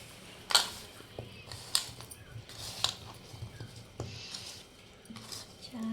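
Amla pickle being mixed in a bowl gives a few sharp clinks of a spoon against the dish and soft stirring scrapes, fairly close, with faint background murmur.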